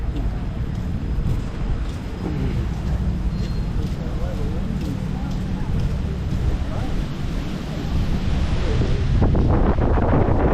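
Strong wind roars across the microphone on a Waikiki beach walk, a loud, steady rushing that covers the whole scene with surf-like noise beneath, growing heavier near the end.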